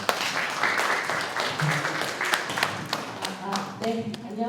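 Audience applause welcoming a speaker at a Busan forum session, moderate clapping with distinct individual claps that tapers off as a voice begins near the end.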